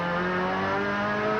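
Colin Bond's touring race car heard from inside the cabin during an Australian Touring Car Championship race at Symmons Plains, a loud, steady high-pitched engine drone holding near-constant revs for a moment.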